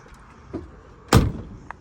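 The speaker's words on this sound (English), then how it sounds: "Doors shut super easy." A single solid thud of a 1967 Ford Mustang GT coupe's door shutting close by, preceded by a faint click, then quiet.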